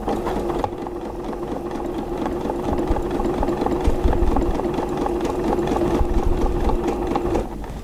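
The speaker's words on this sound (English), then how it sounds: "So now I'm just going to sew sideways." An embroidery sewing machine stitches sideways along the edge of an appliqué square guided by a quilting ruler, giving a steady, close mechanical whirr that runs for about seven seconds before easing off.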